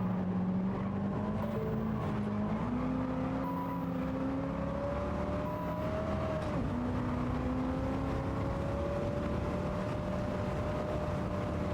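A '70 Plymouth Superbird in a racing video game, its engine droning steadily as the throttle rises and falls, with pitch gliding up and down over a continuous loud roar.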